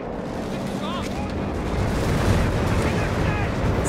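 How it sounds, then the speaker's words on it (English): An artillery barrage in the Company of Heroes 3 video game on the Velletri mission in Italy: shells burst and rumble steadily and loud, under a short stretch of talk. "Artillery barrage on the way."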